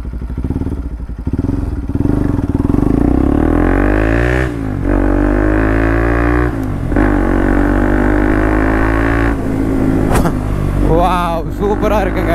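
A newly delivered, modified motorcycle with an Akrapovic exhaust is pushed to full throttle. It roars loudly and close by, with revs climbing in repeated surges and some talk mixed in.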